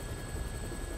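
Helicopter in the video game Dead Rising Deluxe Remaster, a brief steady rotor drone with a thin engine whine, even and moderately loud, without voices.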